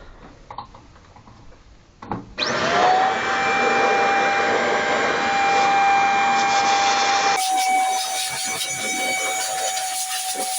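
A vacuum cleaner blows dust out of an E.F. Walker / Rieger-Kloss pipe organ at an art college in Kapan. Faint voices come first, then a loud steady roaring whoosh with a thin whine starts suddenly and runs on, shifting tone partway.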